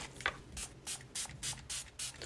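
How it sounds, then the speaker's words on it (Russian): A cosmetic facial mist sprays in about seven short, airy hisses at a steady rhythm, close and fairly quiet, with no talking. "я даже Женю ей брызгаю"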